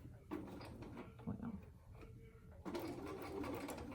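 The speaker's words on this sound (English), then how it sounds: "you're just gonna start sewing right there" A sewing machine stitches pleats into a fabric face mask, a steady close mechanical whir that eases off midway and then resumes louder and denser.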